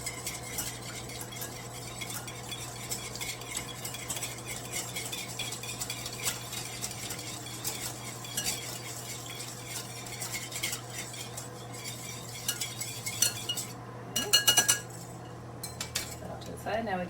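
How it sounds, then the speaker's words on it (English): Milk whisked in a bowl for scone batter: a brisk, rapid clinking and scraping of whisk against the bowl, continuing steadily at close range with a few louder knocks near the end. "Now we can just whisk that up."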